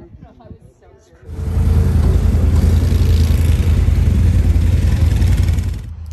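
A motorcycle engine that had been giving trouble on a ride in Canada's Northland County starts up after brief quiet and then runs loud and close at a steady idle.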